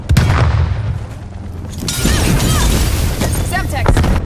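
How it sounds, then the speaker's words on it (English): Stun grenade going off in a Call of Duty Black Ops Cold War multiplayer match on Nuketown '84: a loud close bang at the start, then a sharp crash followed by a dense ringing, crackling wash, with game voices under it. "Stun grenade out."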